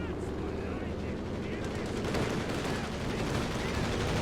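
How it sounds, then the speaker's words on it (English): Strafing-run gunfire from a Company of Heroes 2 match, a dense, continuous rattle of automatic fire and explosions that stays loud and steady throughout, with faint voices mixed beneath the battle noise. "Strafing support almost kills the Panzer Grenadier squad."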